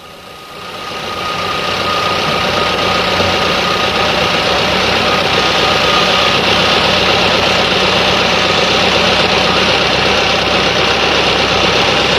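Volkswagen car engine with a 2E7 carburetor idling steadily while it is being adjusted, a loud, continuous, even rumble with no speech.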